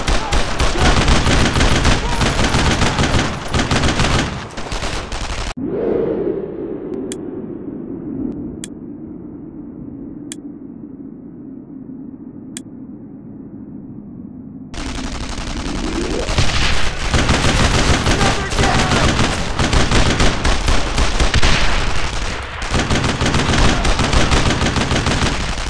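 Heavy World War II squad gunfire in Brothers in Arms: Road to Hill 30, sustained loud machine-gun and rifle volleys, then a muffled ringing lull with a few faint sharp reports, before dense firing resumes, with soldiers shouting throughout.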